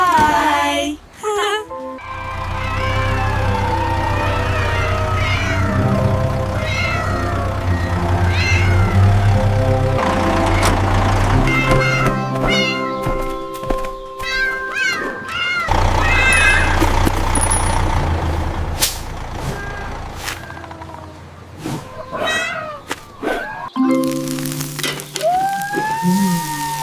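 Cartoon cats meowing as they eat fish, bright repeated mews popping up alone and in clusters over a busy music and effects bed with truck-like rumbles and hisses.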